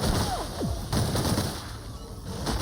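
Gunfire rings out in The Outer Worlds video game, a loud continuous burst of shots with ringing tails and crashing debris over dense game ambience, with no voices.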